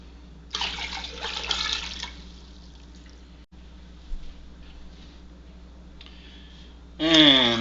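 Water pours from a tap into a pot on the stove in short bursts of splashing and trickling, with quieter drips and a steady low hum in the gaps between pours.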